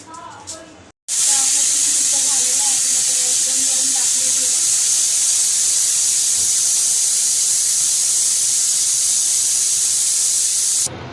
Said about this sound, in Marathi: मी आता गॅसवर कुकर ठेवलेला आहे आणि याच्या आपण आता 3 शिट्ट्या काढून घेऊया.